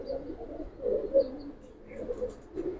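Giribaz pigeons coo softly in a loft, a low rolling murmur rising and falling in a few pulses over a quiet background.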